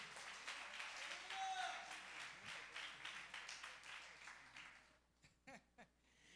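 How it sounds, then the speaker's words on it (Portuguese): Church congregation applauding during a worship service, a dense wash of clapping for several seconds that thins out toward the end, leaving a few scattered claps and faint voices. "Dá uma salva de palmas para Jesus."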